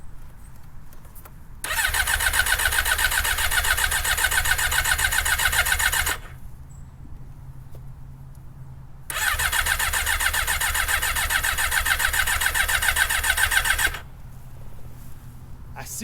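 A car engine cranks over in 12-degree cold on a lithium-ion jump-start battery, two long steady cranking bursts of about four to five seconds each, loud and close, separated by a quiet pause, without catching.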